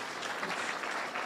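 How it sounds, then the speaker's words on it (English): A short burst of steady applause from the guests at a business community dinner in Mombasa County, dense and even from start to finish. "Another round of applause for her"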